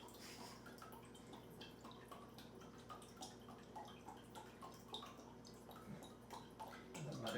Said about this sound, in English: I'm going to use 3/4 cup of vinegar and just add that right to it.